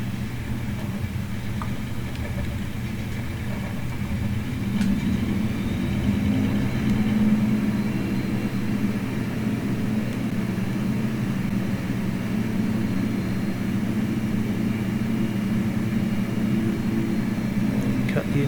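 Aircraft engine in Microsoft Flight Simulator near Nanwalek, Alaska, a steady, moderately loud propeller-plane drone with a low rumble that runs throughout, with intermittent talking over it.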